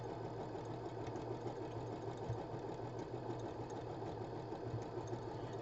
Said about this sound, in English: So it's just the hum of the sewing machine